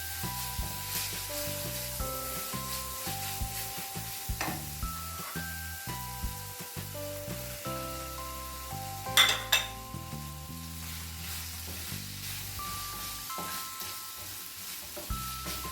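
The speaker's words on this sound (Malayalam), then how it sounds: "അതിലേക്ക് ചിക്കൻ്റെ കഷ്ണങ്ങൾ ചേർത്ത് നല്ലതുപോലെ ഒന്ന് മിക്സ് ചെയ്ത് കൊടുക്കാം" Chicken pieces sauté in a pan for a chicken pasta, with a low sizzle and scattered spoon clatter under steady background music, and a louder burst of stirring about two-thirds through.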